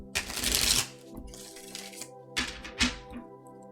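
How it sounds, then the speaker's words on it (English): A deck of tarot cards is shuffled by hand in quick riffling bursts, a long flurry of papery flutter followed by shorter ruffles and soft taps, close up, with a low steady hum beneath. "All right, one more shuffle and then we are going to pull some cards here."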